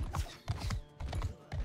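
Horse hooves clip-clopping in a medieval battle video game, a quick rhythmic trot of repeated hoof beats in short bursts against loud in-game combat noise.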